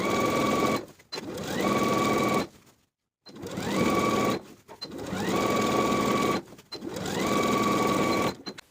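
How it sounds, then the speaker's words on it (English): A sewing machine edge stitches along the inner fold of a jumpsuit pant leg hem, running in four steady whirring bursts of about a second and a half each, with short pauses between them, close and unaccompanied. "Now I'll edge stitch along the upper inner fold all the way around,"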